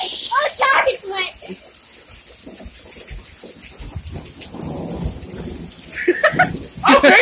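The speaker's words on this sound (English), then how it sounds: "That's thunder." Thunder rumbling during a rainstorm outdoors, a low rolling boom that swells in the middle under the steady hiss of falling rain, with people talking at the start and end.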